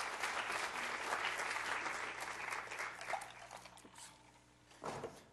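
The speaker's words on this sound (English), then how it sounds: "An applause for Jens Berggren, who has taken the stage." Audience applause at a water, energy and climate conference session, loud and sustained for about four seconds before fading, followed by a brief burst near the end.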